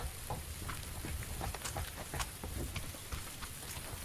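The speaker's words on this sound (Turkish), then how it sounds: "Ya bu yağmur insanı tilt eder ha." Steady rain patters and hisses continuously in the video game PUBG, with scattered droplet ticks over a low rumbling background, moderately quiet throughout.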